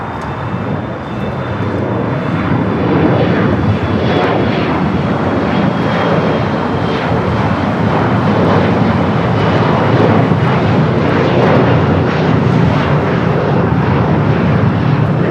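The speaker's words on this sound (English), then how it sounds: "that is the Japan Dreamliner heading to Tokyo Narita" A Japan Airlines Dreamliner departs LAX for Tokyo Narita, its jet engines giving a loud, continuous roar that swells and holds for the whole stretch with no talk.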